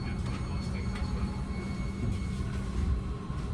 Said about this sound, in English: This is Northbound Limited Train 425 making select stops to San Francisco.